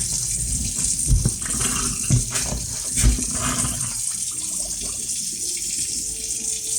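A tap runs into a sink being refilled while a clogged drain is cleared, a steady close rush of water with a few louder gushes and knocks along the way.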